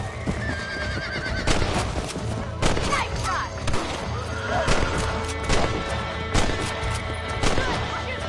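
Rifle gunshots from Red Dead Redemption: several sharp cracks spread across the clip, mixed with horse whinnies, hoof clip-clop and busy game ambience, loud and close.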